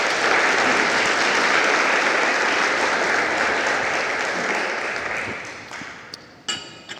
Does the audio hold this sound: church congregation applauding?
yes